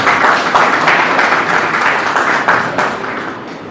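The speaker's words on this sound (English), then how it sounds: "A huge round of applause for Professor Dr. Anil Kaushik sir." Loud, close audience applause at a moot court competition, with some distinct individual claps, gradually thinning toward the end.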